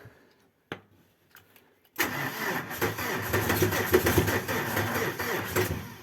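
An engine cranks after a few faint clicks and catches. It settles into a loud, steady running rumble close by.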